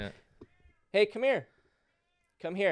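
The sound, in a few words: loud cat meowing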